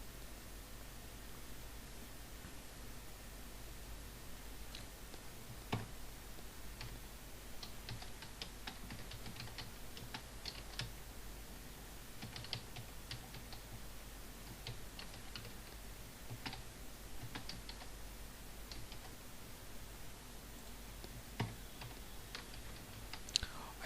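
Someone types macro code on a computer keyboard, producing quiet, irregular clusters of light keystroke clicks, close and alone against faint room hiss.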